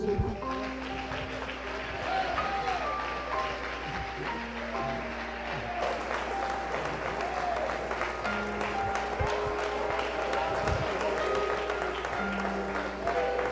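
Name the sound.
applause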